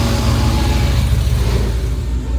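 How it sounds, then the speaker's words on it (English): Performance Dodge Chargers run inside a Dodge service shop, filling the space with a loud, steady, deep engine rumble close by that does not let up. "Every car in here making noise."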